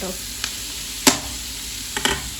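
Chopped onions frying in leftover oil from fried chicken in a pan, giving a soft sizzle broken by a few sharp spatula knocks, close up and without speech.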